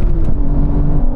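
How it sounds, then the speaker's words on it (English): An Aston Martin engine revs hard during a drag race: a loud, close, deep rumbling roar held briefly with a slight rise in pitch. "Rev it all the way."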